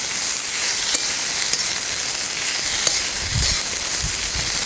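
Green chillies roast in a pan with a steady, close sizzle and hiss, and a few soft stirring knocks near the end.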